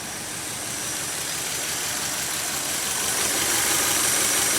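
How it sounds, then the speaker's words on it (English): A Toyota AE86 engine with an incorrect, uneven idle runs close by, a continuous mid-pitched rumble that grows slightly louder toward the end, with no speech. "You can hear the idle is not that correct."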